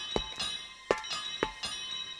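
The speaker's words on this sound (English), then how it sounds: "He had heard the banging and Toby's bell ringing." A cartoon steam engine's bell rings in a few separate metallic strokes with a ringing tail after each. The sound is fairly faint and arrives in an uneven rhythm.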